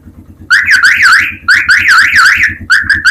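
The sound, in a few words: horn of a farm motorcycle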